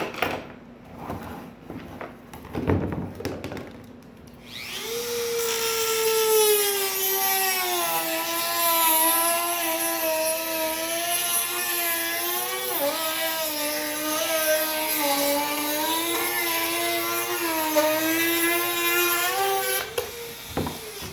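A Dremel with a diamond cutter bit whines in a steady, high tone as it trims a fiberglass plug. It starts after a few seconds of handling noise, then runs loud and close for the rest of the clip.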